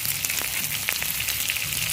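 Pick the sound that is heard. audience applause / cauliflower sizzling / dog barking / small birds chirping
cauliflower sizzling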